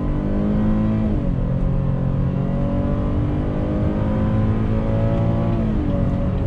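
A 2020 Chevy Traverse High Country with a V6 and all-wheel drive accelerates, heard from inside as a steady engine drone rising in pitch, with smooth gear changes briefly dropping the tone; no talking.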